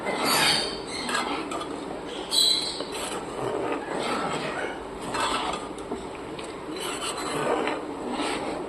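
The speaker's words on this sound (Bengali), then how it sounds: "এটা এবার ভালো করে নেড়ে দিতে হবে, নাহলে আবার দলা পাকিয়ে যাবে।" Spoon scraping and stirring sabudana with powdered milk in a pot, a steady rasping, rubbing sound with occasional light clinks, fairly quiet and continuous.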